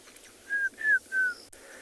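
Three loud, high-pitched piping bird calls ring out one after another during an afternoon safari in South Africa, each a clear, slightly falling whistle, with soft rustling background and a brief click near the end.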